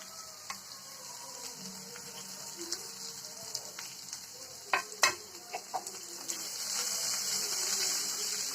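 Quiet sizzling and stirring of vegetables sauteing in a pan, with scattered clinks and scrapes of a utensil against metal and a steady soft hiss.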